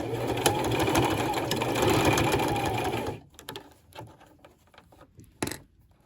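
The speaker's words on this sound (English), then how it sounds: "we will stitch close to this folded edge here. And I start maybe about 1/4 of an inch in, and then I'll do a back stitch" A sewing machine back stitching along the folded edge of a fabric face mask runs in a steady, loud, close whir for about three seconds, then stops, leaving scattered small clicks and handling noises.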